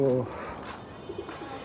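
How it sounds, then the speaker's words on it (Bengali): Soft pigeon cooing, a few low throaty calls close by, with a brief tonal sound at the start and light background noise. "রোদটা পায় সুন্দর, মাশাআল্লাহ কবুতর গোসল করতেছে"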